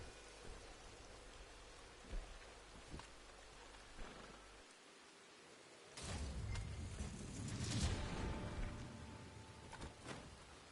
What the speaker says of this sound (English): If you can't hear the game sound that much, it's because I've turned it down to the weather, either rain, thunder, lightning.